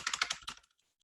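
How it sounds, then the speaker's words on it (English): Rapid burst of about six or seven close, crisp key clicks as arrow keys are tapped on a computer keyboard during CAD drafting work, then a few faint stray taps trailing into silence. "So I just go ahead and use my arrow keys."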